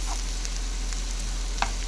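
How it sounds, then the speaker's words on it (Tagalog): Argentina corned beef fries with onion and garlic in a pan, giving a steady, close sizzle with a faint scrape of stirring. "At ngayon, isusunod ko yung corned beef ko na Argentina."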